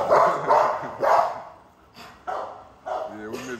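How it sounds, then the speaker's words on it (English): XL pitbull dogs bark in a close, loud series of about six deep, punchy barks, several in a quick cluster early and more after short pauses, with some people talking in the background. "So Navy is barking at Roxie and Zeus for doing all that barking"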